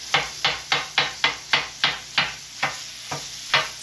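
A metal spatula chops browning meat on a Steelmade griddle in about a dozen sharp, evenly spaced clanks, each with a short sizzling tail.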